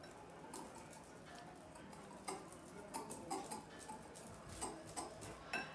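Gluten-free baking powder and dry ingredients stirred in a bowl, giving faint, steady ticking and scraping taps in an uneven rhythm, close and quiet.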